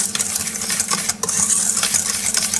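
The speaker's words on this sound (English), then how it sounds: "giving it a little mix with a whisk," A wire whisk stirs flour and caster sugar in a bowl, making quick, scratchy swishes and light metallic ticks in a busy, uneven rhythm, close up with no speech.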